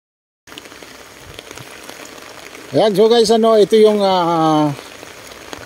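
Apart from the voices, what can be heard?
light rain falling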